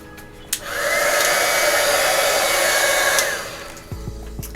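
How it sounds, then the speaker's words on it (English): Heat gun used for heat embossing a stamped card, blowing with a steady loud whoosh for about two and a half seconds before switching off, with small clicks and handling noises around it. "use our heat gun again. Using our heat gun a lot today."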